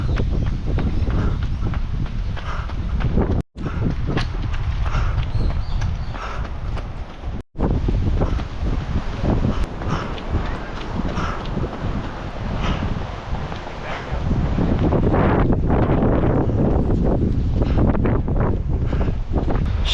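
Strong sea wind buffets the microphone along a wet urethane running track on a coastal island path, a loud continuous roar that surges and thickens toward the end, with a couple of brief dropouts.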